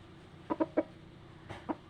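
A fighting rooster clucks close by in short bursts: three quick clucks, a pause, then two more, fairly soft against a quiet background.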